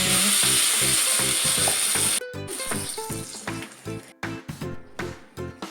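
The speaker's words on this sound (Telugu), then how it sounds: "కొద్దిగా మినపప్పు, శనగపప్పు వేసి బాగా వేయించుకోవాలి" Urad dal and chana dal crackling in hot oil for a tempering, a loud steady sizzle that gives way to sharp rhythmic clicks and scrapes of stirring.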